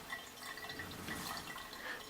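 A handmade ceramic pet drinking fountain with a rose-handle pump, its water trickling and dripping softly and steadily into a trough, faint and continuous.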